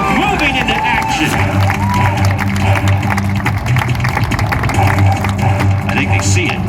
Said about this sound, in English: Cheer them on, Nashville.